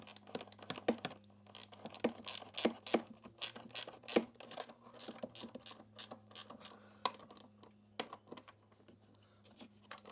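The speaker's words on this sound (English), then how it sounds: "Now I just gotta hold the ratchet so it doesn't back." Ratchet wrench clicking under a piece of used power equipment that won't start, quick uneven bursts of close, crisp pawl clicks with short pauses between them.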